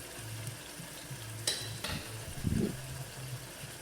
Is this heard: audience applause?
no